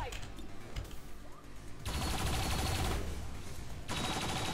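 Turret gunfire in XCOM 2 rattles out in two sustained bursts, fairly quiet and steady, over a low background of game sound.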